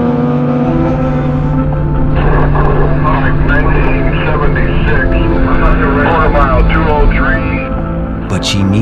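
Leslie Porterfield's motorcycle speeds across the salt flats at over 180 mph, its engine a loud, sustained, steady drone with a strong harmonic whine that holds throughout the clip.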